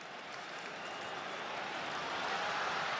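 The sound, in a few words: football stadium crowd cheering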